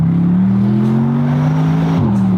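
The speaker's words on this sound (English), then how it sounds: "the freaking turbo spooling on it" A Bentley GT3 race car with its turbo spooling gives a loud, sustained engine drone with a rising whine, steady for about two seconds before the pitch dips sharply near the end.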